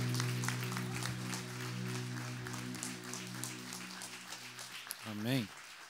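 A church congregation claps to welcome a guest speaker at a Sunday service, a steady patter of applause over sustained keyboard tones that fade out just before a voice speaks.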